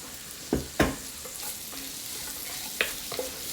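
Shredded cabbage and apples frying in a pan over rising heat, a soft steady sizzle broken by a few sharp clattering stirs and scrapes.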